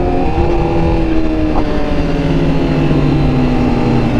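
Honda Fireblade sports motorcycle revving through its exhaust, a loud continuous engine drone close by with pitch slowly shifting over a few seconds.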